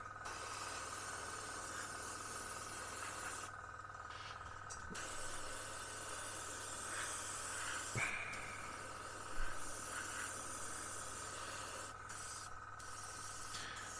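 An airbrush spraying paint freehand onto a 1/32 Revell He 111 model kit for splinter camouflage, a quiet steady hiss of air running throughout with brief pauses and small clicks, close up with no talking.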